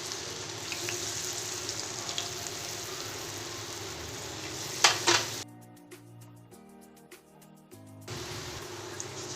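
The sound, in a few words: baby corn frying in hot oil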